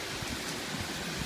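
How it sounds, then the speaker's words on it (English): Rain arriving amid hurricane-force winds at a country estate, a steady dense broadband hiss of falling water and gusts filling the short stretch without pause. "Comes the rain."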